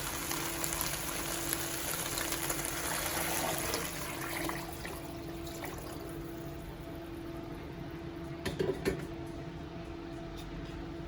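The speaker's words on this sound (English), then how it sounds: "So we're gonna add enough water to cover the potatoes and the meat." Water is poured into a pot of potatoes and meat for a Zuppa Toscana soup, a steady moderate pour running for several seconds that tapers off, with a few light clinks near the end.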